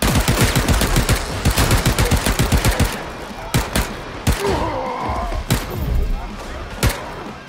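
Rapid automatic gunfire in the video game Paint the Town Red, a dense burst of shots followed by scattered single loud bangs and thuds, with someone talking over the later part.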